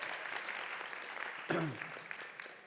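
Conference audience at an ArabCon talk on Palestine and online algorithms breaks into a short burst of clapping from a large room, swelling midway and fading, with a faint voice underneath.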